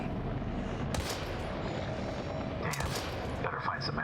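Gunfire in the survival horror game Daymare: 1998, a busy rattle of shots with sharper, louder reports standing out, set against a steady background of game noise.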